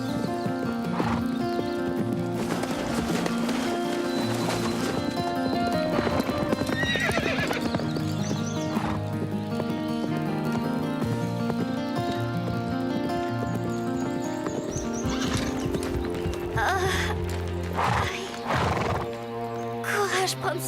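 Cartoon horse hooves clip-clop in a steady rhythm while the horse is ridden, with whinnies and music filling the background and voices talking over it.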